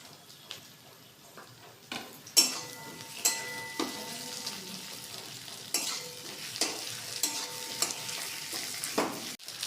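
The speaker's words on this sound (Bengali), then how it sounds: "দিয়ে লাল করে আরেকটু ভেজে নেবো" Onions and tomatoes fry in a pan over low to medium heat, a soft sizzle under repeated clanking stirs of a spatula against metal, close by and fairly quiet.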